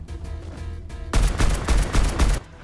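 Gunshots in Fortnite on Nintendo Switch during a firefight, a dense loud burst of rapid shots starting abruptly and lasting over a second before cutting off, with game sound beneath.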